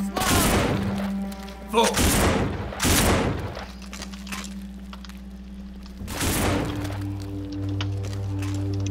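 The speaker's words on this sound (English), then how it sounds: "Oh, good, that's my favorite pistol. The Smith & Western. That's pretty loud." A Smith & Wesson pistol fires in the zombie game No More Room In Hell: loud, sharp shots, first a quick pair, then one more, then a single later blast, with a voice talking between them.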